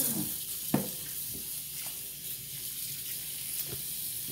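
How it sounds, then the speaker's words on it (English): Beef neckbones rinsed under a running kitchen sink tap for soup, a steady hiss of flowing water with a few soft knocks and splashes, close up and with no talk. "now I'm gonna rinse my meat off."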